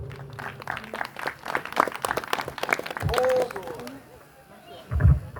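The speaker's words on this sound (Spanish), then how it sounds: "En esta noche recibimos con un fuerte aplauso al siervo de Dios en esta noche." A church congregation applauds the pastor with a burst of close, sharp hand claps for about three seconds, after which a voice speaks and the clapping stops.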